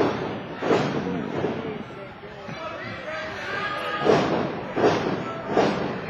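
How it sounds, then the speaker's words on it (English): A wrestler's head slammed repeatedly onto the ring canvas at an NWA Atlanta wrestling event, a series of loud dull thuds, three in quick rhythm near the end, under ringside commentary and crowd noise. "Just repeated blows to the canvas"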